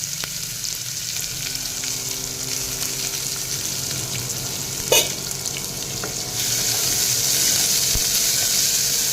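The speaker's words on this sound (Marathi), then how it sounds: "आणि कांदा थोडासा एखाद दोन मिनटं आपण छान परतून घेऊयात" Onion, garlic, ginger and green chili sautéing in a pan with asafoetida and turmeric for a spicy urad dal amti, giving a steady close sizzle with a brief clink that grows louder and hissier partway through.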